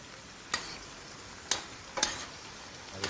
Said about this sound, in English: Stir those around till they're golden.